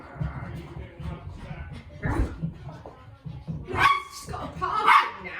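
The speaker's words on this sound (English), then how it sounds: "Gonna get run over by a small little dog." A small dog barking in short sharp bursts with a few yips, close by and loud, mixed with people talking and laughing.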